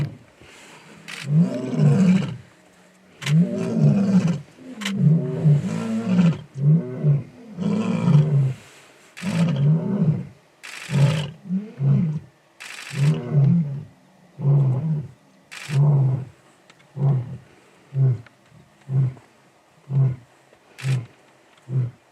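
A lioness on safari in Zambia roars in a long series of deep, close grunting bursts that grow shorter and more evenly spaced toward the end.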